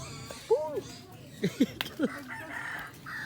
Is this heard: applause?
no